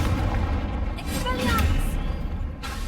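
Confringo explosive spell blasting in Hogwarts Legacy during a duel, heavy rumbling low booms and bursts continuous under spoken voices and other spell effects.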